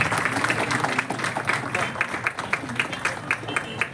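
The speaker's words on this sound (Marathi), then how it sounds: "टाळ्या वाजवायच्या आहेत सर्वांनी।" A crowd at a welcome ceremony for road construction work applauds in a steady, dense patter that thins into more distinct, rhythmic claps, with a voice faintly underneath.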